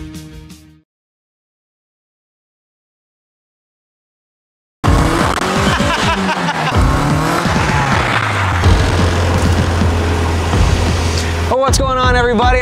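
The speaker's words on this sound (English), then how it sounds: "who's built this race car" A home-built race car drives past loudly with sharp tire squeal and skidding, its engine roaring steadily for several seconds after a stretch of silence, with a voice briefly heard at the end.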